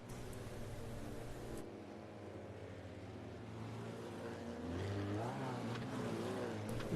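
Racing video game car doing dirt burnouts at USA International's dirt configuration, a continuous droning engine with rising revs and wavering pitch, held fairly steady and faint throughout.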